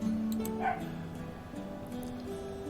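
A dog in the PC game Love Bites gives a short whimpering bark amid a steady low game hum, fairly faint and brief near the start.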